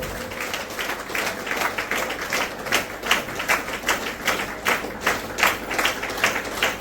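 Audience at a senior trainers' conference gives sustained, moderately loud applause to welcome an honoured guest on stage, with dense overlapping claps and no talking.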